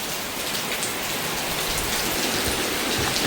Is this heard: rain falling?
yes